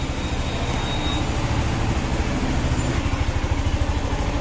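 Yamaha FZS motorcycle engine running close by, a loud, steady buzzing drone with a fast pulsing beat, no voices over it.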